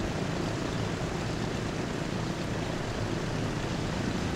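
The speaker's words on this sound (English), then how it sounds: "So here comes that DC-3." A DC-3 propeller airliner comes in to land in the video game Transport Fever. A steady, moderately quiet engine drone holds at an even level throughout, with no talking.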